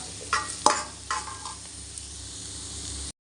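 Onions sautéing in a pan for a paneer gravy, with a steady close sizzle broken by a few sharp stirring scrapes before cutting off abruptly.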